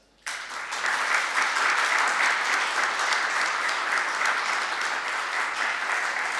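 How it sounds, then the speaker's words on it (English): An audience bursts into applause for an award winner at a European storytelling event, starting abruptly after a moment of quiet and holding as a full, even roar of clapping for several seconds. "the applause is now for Petros, and I hope he can listen your applause"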